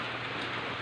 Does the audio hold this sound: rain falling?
yes